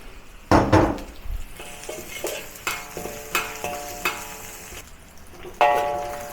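Ginger, scallion and garlic sizzle in a hot wok as a spatula stirs them, giving sharp metallic scrapes and clanks in a steady rhythm over a continuous frying hiss, close and fairly loud.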